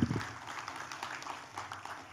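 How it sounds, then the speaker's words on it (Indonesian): Audience applause at a city government event in Malang: faint, distant clapping from a crowd, steady and low in level. "Tepuk tangannya mana ya?"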